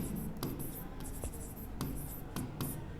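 A pen scratches on paper during a maths lesson, with close, continuous strokes broken by brief pauses and sharper taps.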